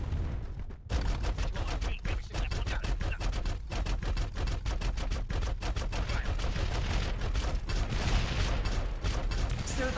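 Sustained automatic gunfire in the Farlight 84 battle royale, a loud, dense rattle of rapid shots running almost continuously after a brief quiet start, with mechanical clatter mixed in.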